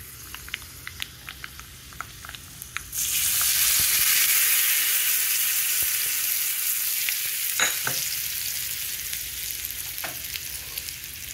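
Hot tempering is poured into a cucumber and tomato chutney and stirred, giving a sudden loud sizzle that hisses on steadily and slowly fades, with scattered clicks of a spoon against the pot.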